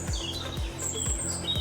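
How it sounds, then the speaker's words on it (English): Birds sing in thin, high chirps and short whistled phrases over a steady low pulsing rumble outdoors, fairly close and clear, with no talking. "Good bird song."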